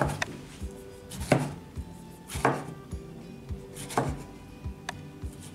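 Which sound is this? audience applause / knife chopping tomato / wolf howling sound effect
knife chopping tomato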